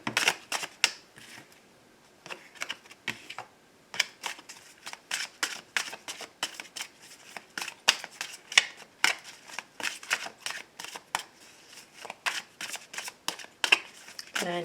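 Tarot cards are shuffled for a daily reading, close crisp riffles and flicks in irregular bursts with short pauses.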